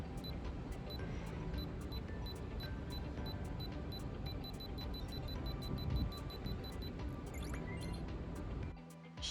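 A Ricoh THETA Z1 360-degree camera counts down its 10-second self-timer with short, high, evenly spaced electronic beeps over a steady background hiss. The beeps grow more frequent toward the end, and the clip ends with a low thump.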